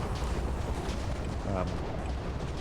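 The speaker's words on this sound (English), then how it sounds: "There's a lot of end crystal blasts." Steady rumble of repeated booming end crystal explosions in Minecraft, dense and continuous, with a voice briefly audible beneath.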